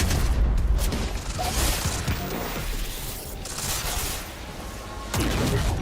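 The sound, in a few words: explosions in Quantum Break video game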